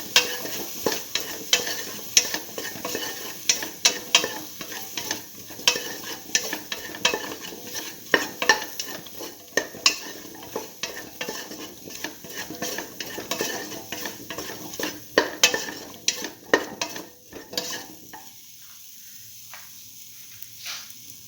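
Spices and salt being stirred in a frying pan, with repeated scraping and clinking of a utensil against the pan over a faint sizzle, continuing steadily before falling quiet near the end.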